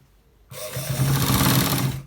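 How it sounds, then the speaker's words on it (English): Sewing machine running a straight line of stitches along the end of a designer button shirt, starting after a brief quiet moment and then whirring steadily and close up for about a second and a half before easing off. "We are stitching it to the straight path, or the end part"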